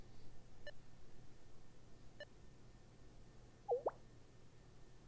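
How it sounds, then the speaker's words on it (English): Faint electronic beeps in the Blue Archive game, two short evenly spaced tones followed by a brief warbling chirp, set against a low ambient hum. "Is something beeping?"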